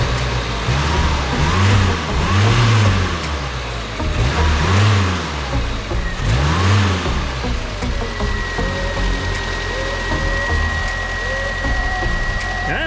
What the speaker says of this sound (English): See if I can get the key going here. I expect it to stall,